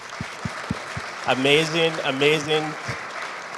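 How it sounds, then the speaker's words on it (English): An audience at a startup pitch night at the Startup TNT Investment Summit VIII in Edmonton claps in a thin, scattered patter of applause while a presenter speaks over it close to the microphone. "Could you please give them a round of applause?"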